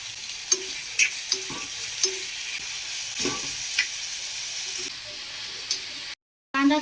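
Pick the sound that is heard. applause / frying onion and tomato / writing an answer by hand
frying onion and tomato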